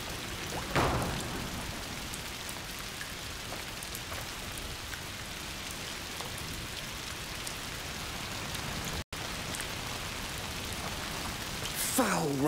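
Steady hiss of foul rain pouring in A Plague Tale: Requiem at the edge of the forest past the butcher's district, even and continuous throughout with a couple of brief louder splashes, no speech over it.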